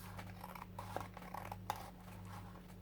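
Scissors trimming excess paper from an art journal page, a few crisp snips and light scraping over a steady low hum, close and quiet, no speech.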